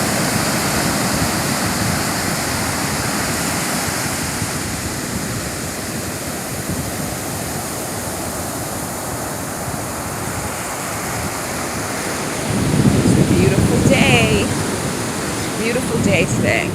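Ocean surf rolling onto a beach in Gambia, a loud continuous wash of breaking waves with a heavier surge near the end, alongside faint voices in the background.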